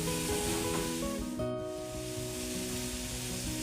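Paneer frying in ghee on a tawa, a faint steady sizzle under a low hum and tonal background noise, quiet and close, with a brief dip partway through.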